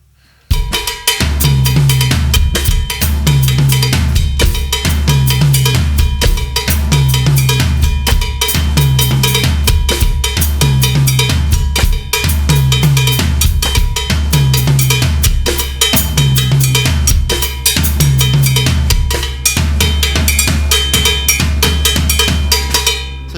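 A full drum kit grooves through a steady, loud Latin beat, the left foot clicking out a clave pattern against repeating kick and tom accents and bright, constant cymbal wash, with no talking.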